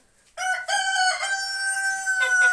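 A rooster crows loudly and close by in a farmyard henhouse, a single drawn-out call rising and holding, with chickens nearby.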